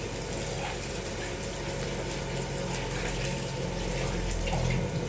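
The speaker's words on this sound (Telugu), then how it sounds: "చిక్కుడుకాయ కడుగుతున్నా" Broad beans being washed under a running kitchen tap, a steady close stream of water splashing into a sink with a faint low hum beneath, continuous and even throughout.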